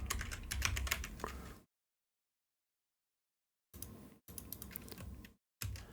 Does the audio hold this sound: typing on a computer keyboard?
yes